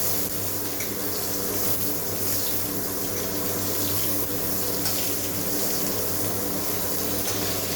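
Eggplant pieces fry in hot oil that was already used for frying small mourola fish, with the gas turned up high. A dense, even hiss of sizzling runs unbroken throughout, close and fairly loud, with no talking.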